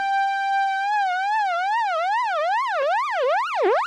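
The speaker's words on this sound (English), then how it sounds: "We got this frequency modulation of both oscillators happening." Korg MS-20 synthesizer with both oscillators under frequency modulation: a steady buzzy tone that starts wobbling in pitch, the sweeps growing steadily wider and faster into a siren-like warble, loud and close with no talking.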